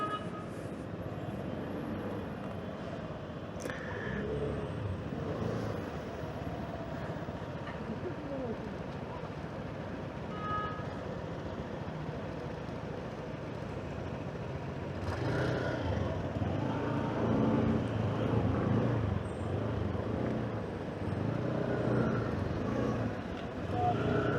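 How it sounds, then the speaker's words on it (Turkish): Road traffic in a jam around a Voge SR3 motorcycle near Büyükçekmece: a steady, dense wash of engines and tyre noise that stays continuous and grows somewhat louder toward the end, with no clear speech. "Burada bir trafik sıkışması var."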